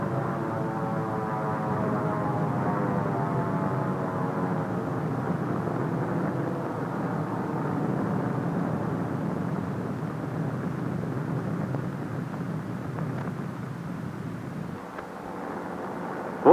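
Drone airplane flying over a target fleet at Bikini after an atomic blast, a steady droning engine hum with a slowly falling pitch, continuous and moderately distant, with wind-like noise and no voices.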